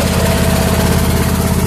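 A 2007 Husqvarna YTH2454 riding lawn mower engine idles close by, a loud steady throbbing chug that stays even throughout with no voices.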